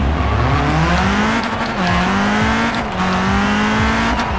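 A 2017 Vuhl 05RR in Forza Horizon 4 revs loudly up and down through repeated gear changes, the engine note climbing and dropping in quick cycles with a faint tire squeal, close and alone.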